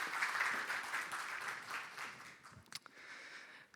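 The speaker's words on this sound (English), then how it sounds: "Please join me in a round of applause for Katica Reljanović" Faint, short round of audience applause at a tax conference session, the clapping fading out after a few seconds.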